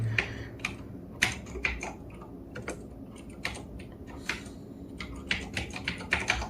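Someone types an email address on a computer keyboard, producing irregular light key clicks at close range, with a few louder taps over quiet room hiss and no speech.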